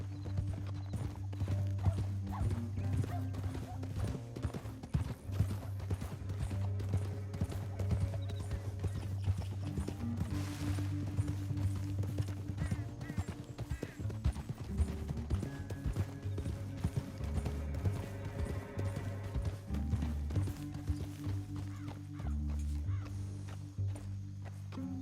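Horses galloping in Red Dead Redemption 2, steady rapid hoofbeats on the ground throughout, close and continuous, with occasional faint snorting and a quiet voice in the background.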